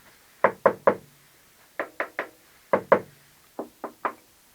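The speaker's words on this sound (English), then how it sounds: "This one's a little bit more solid than this one." Knuckles rap on a hollow plastic speaker cabinet in quick sets of three, close and distinct, with short pauses between groups.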